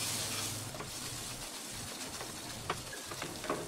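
A spoon stirs a rose water and milk powder mixture in a pan over low flame for kaju peda, a soft steady scraping and faint sizzle close by with occasional light clinks, no talking.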